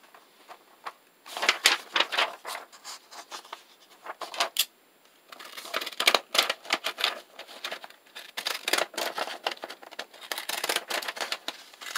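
Scissors snipping through thin cereal-box cardboard in a quiet room, a run of short crisp cuts and crinkles in close, irregular bursts with brief pauses, alone without talk.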